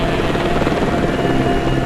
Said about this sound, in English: The sound of helicopters.